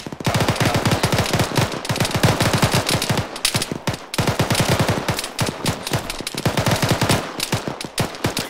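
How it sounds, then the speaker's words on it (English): Machine gun suppression fire in Arma 3 during a squad training exercise: long, rapid automatic bursts, loud and close, broken by short pauses and then resuming, with no talking. "We'll get that suppression fire out when you're set"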